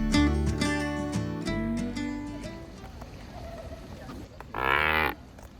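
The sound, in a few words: pelicans mooing like cows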